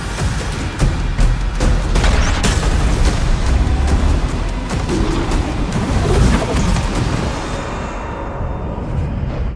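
A huge explosion in Doom: The Dark Ages rolls on as a loud, sustained roar, with dense rumbling and crackling debris lasting several seconds before cutting off sharply.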